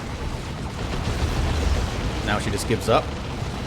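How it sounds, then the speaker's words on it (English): D-cannon artillery booms and rumbling explosions in a Dawn of War 2 battle, rolling continuously and loudly beneath a commentator's voice. "D-cannon just D-cannoned the Techmarine down"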